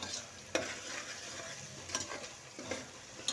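Goat tripe (boti) fries in a pan while being stirred, a quiet continuous sizzle punctuated by several sharp scraping knocks of the spoon against the pan.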